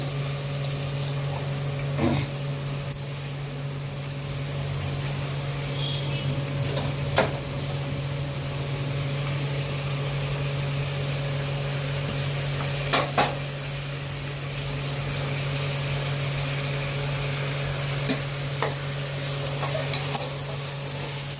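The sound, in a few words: vegetables frying with onion for veg pulao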